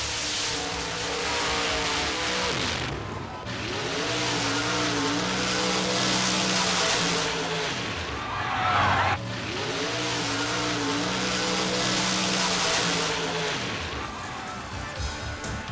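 A black Corvette funny car tearing through a mud racing pit, its engine screaming loud and close with rising revving sweeps, a brief dip, then another hard wail as it powers on.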